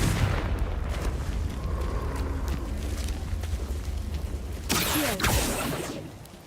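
A Confringo fire-blast spell erupts in a roaring, rumbling explosion that fills the space, then a fresh burst of crackling debris and a thud, before it fades out.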